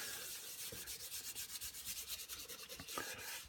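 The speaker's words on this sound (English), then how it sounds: "and I'll just rub it in." Rhythmic rubbing strokes as canola oil is worked by hand into a cast iron pan, a soft, close scrubbing repeated steadily and evenly without any talking.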